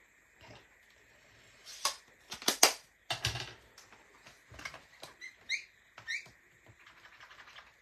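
Scissors snip through cardstock pieces for a Christmas card, a quiet series of short crisp cuts arriving in irregular bursts, close to the microphone with no talking.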